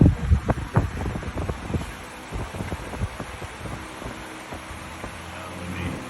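A small model wind turbine with a six-blade, open-center rotor spins up quickly, giving a close, throbbing whir with rapid rhythmic pulses over steady wind noise that settle into a smoother hum.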